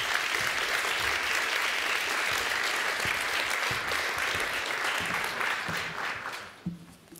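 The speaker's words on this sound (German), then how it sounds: "Ein Applaus für Corinna Gerhards." Sustained audience applause at a film festival screening event in Bremen, even dense clapping that fades out near the end, leaving a few scattered sounds.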